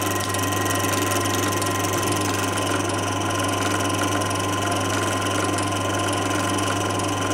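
A Lister D stationary engine runs steadily, a continuous close, even drone with constant vibration and no other sounds.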